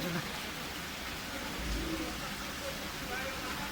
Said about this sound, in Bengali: অনেক দিন পর স্বস্তির বৃষ্টি হচ্ছে